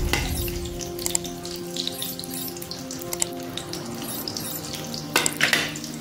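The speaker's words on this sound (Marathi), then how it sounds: "आता त्याला फ्राय करून घेऊया।" Steady sizzling and crackling of ginger-garlic paste and cumin frying in hot oil in a kadai, with faint clinks and a brief louder burst of sputtering near the end.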